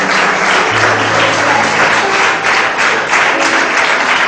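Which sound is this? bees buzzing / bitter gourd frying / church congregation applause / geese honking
church congregation applause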